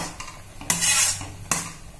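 A metal ladle stirs boiling milk in a pot for a Tamil milk kozhukattai dish, giving a few distinct scraping clinks against the pot amid bubbling, close and clear with no talking.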